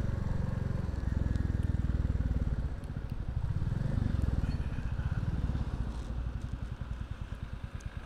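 A Royal Enfield motorcycle thumps along under way, its steady low single-cylinder pulse loud and close throughout, with wind rush and slight rises and falls in revs.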